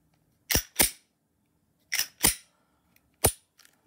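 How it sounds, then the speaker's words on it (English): Sharp metallic clicks come from a Glock 48 pistol as its cleaned slide is reassembled and the firing pin is tested: five crisp snaps, close by, in pairs and singles, followed by a few faint handling ticks. "So firing pin reacted the way it's supposed to"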